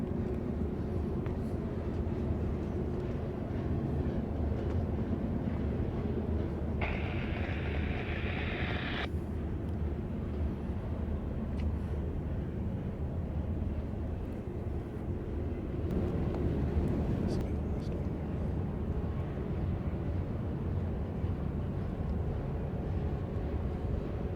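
A long BNSF freight train with mid-train DPU locomotives rolls past on Cajon Pass near Hill 582, a continuous low rumble and rolling noise heard from a distance, fairly quiet and unbroken.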